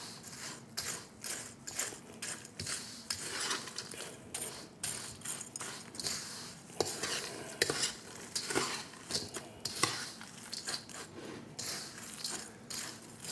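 Potato salad mixture being stirred in a bowl, a steady run of scraping, clinking utensil strokes against the dish, close and moderately loud, with no talking.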